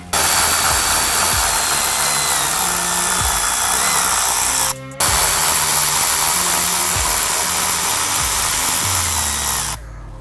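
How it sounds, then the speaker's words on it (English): A power tool removes the two 10mm bolts on top of a 2023 Super Duty headlight assembly, a loud, close, steady whir that runs for nearly five seconds, breaks briefly, then runs again. "Now we can remove the 2 10mm bolts located here at the top of your headlight assembly."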